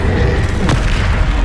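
A Confringo explosion spell cast in the Hogwarts Legacy video game, heard as a single loud boom with a sharp burst near the middle over a dense, constant game soundscape.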